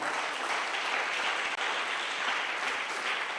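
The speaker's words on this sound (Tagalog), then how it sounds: "Malakas na palakpak sa Panginoon." A church congregation bursts into loud, sustained applause in praise, a dense wash of many hands clapping together with no pauses, steady from start to end.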